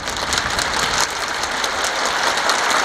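Enthusiastic applause from a crowd at a closing ceremony, a dense, steady patter of many hands clapping without pause.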